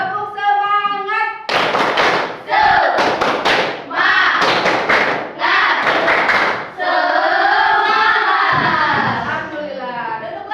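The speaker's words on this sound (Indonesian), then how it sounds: "kita tepuk semangat dulu ya semua." A classroom of students, on their feet during a lesson, does rhythmic clapping in quick bursts between stretches of their chanting voices, loud and close, opening and closing with a speaking voice.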